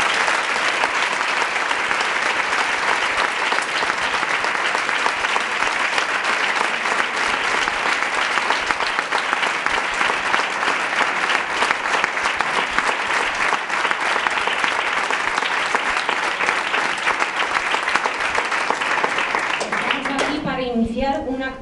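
Sustained applause from an audience at a women's rights tribunal presentation, a dense, even roar of clapping that runs on for about twenty seconds before a voice starts speaking at the end.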